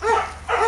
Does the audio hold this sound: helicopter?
no